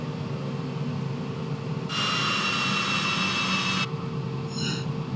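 An aircraft jet engine running just after start-up while the second engine waits to spool: a steady broadband roar, joined midway by a louder high-pitched whine for about two seconds before it drops back to the lower hum.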